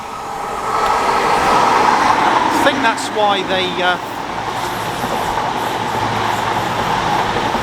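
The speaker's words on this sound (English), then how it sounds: "just train passing through again" Train rumbling past near the former Filton airfield, a loud sustained roar with a brief squealing burst partway through, while someone talks over it.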